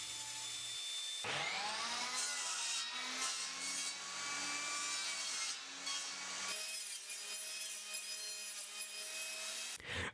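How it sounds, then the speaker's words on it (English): A table saw makes repeated passes through wood to cut out a half-lap joint, guided by a stop block. The blade whines loudly and steadily with shifting pitch, and there is a brief drop partway through. "I remove the material with multiple passes on the table saw."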